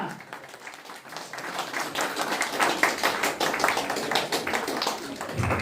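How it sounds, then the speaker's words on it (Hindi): Loud, sustained audience applause and clapping at a company event in Nepal, a dense steady wash of many hands continuing throughout. "जोरदार तालीको साथमा"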